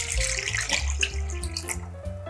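Water pours steadily into a pot, about 400 ml for a Korean soup base seasoned with mirin. The stream gurgles close by, and its pitch rises as the pot fills. No one speaks.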